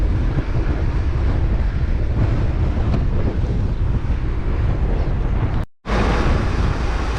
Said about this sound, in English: I've got a terrible 50-mile-an-hour crosswind and it's just breaking the wind for me